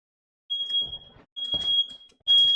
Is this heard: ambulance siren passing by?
no